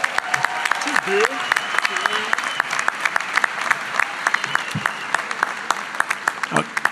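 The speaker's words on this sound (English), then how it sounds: "let's give a round of applause to each other and say congrats to your classmates" A large audience of graduates at a university pharmacy commencement ceremony applauds one another, sustained crowd clapping filling the hall with sharp individual claps standing out and a few voices and cheers underneath.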